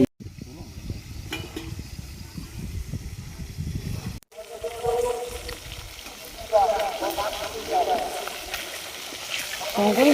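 Big catfish (magur) pieces dropped into a hot wok of oil for a curry, giving a sharp shift into busy crackling sizzle that carries on under a voice.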